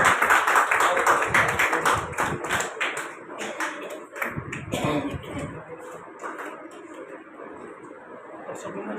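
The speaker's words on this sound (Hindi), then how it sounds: "तो जोरदार तालियां" Audience applause in a hall during an honouring ceremony at an interview event, dense clapping that swells loudly at first, dips, then returns steadily, with some talk and coughs mixed in.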